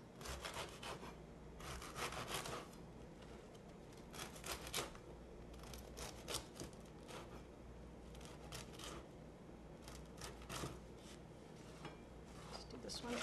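Knife sawing through a fresh Italian sesame loaf, cutting it into cubes on a board, with steady rasping strokes and occasional light knocks, faint and close.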